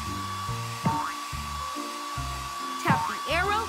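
A steady whooshing hair dryer with a thin whine runs throughout as it blow-dries a pup in a Paw Patrol children's video game, under bouncy game music and brief cartoon voice sounds.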